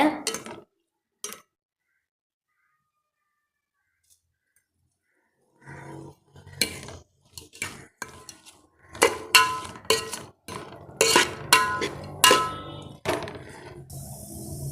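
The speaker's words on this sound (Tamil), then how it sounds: "நல்லா வதக்கிக்கோங்க இப்போ நம்ம வெங்காயம் தக்காளிக்கு தேவையான உப்பு சேர்த்துடலாங்க" Spoon stirring onions and tomatoes sautéing in a pan for chickpea curry: after a long near-silent gap, repeated metallic scrapes and clinks against the pan, close and intermittent.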